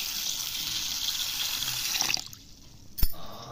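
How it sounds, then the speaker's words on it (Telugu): Water pours steadily over moong beans and rice set to soak for pesarattu, a close gushing stream that stops abruptly and is followed by one short knock. "వాటర్ పోసి బాగా నానబెట్టుకోవాలండి."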